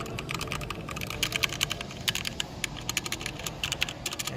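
Quick, uneven clatter of typing on a mechanical keyboard with linear Cherry MX Silver switches, close and crisp, a steady run of light key clicks with no talk.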